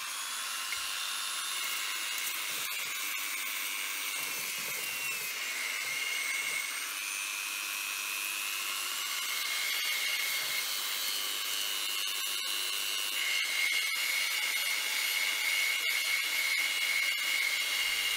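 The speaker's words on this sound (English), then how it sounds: "the easiest way to do that is just with the finger sander" A finger sander grinds paint and rust off a rusty metal part, giving a steady high-pitched whine with a hissy abrasive edge that holds at an even level throughout, close up, with no talking.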